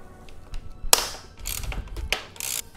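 A socket wrench ratchets sharply on bolts being broken loose from a 2017-2020 Honda CBR1000RR fender, with several distinct clicking bursts and metallic taps against quiet background.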